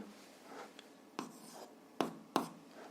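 Pen or pencil writing answers for a seventh-grade algebra exercise, with a few short scratchy strokes and sharp taps against paper, close and quiet.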